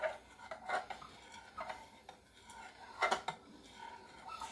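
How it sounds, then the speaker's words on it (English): A spoon stirs and swirls peach cobbler batter in a baking dish, giving soft scraping sweeps and a few sharper clinks against the dish, close and fairly quiet with no talking. "stir it in. Just swirl it around like that."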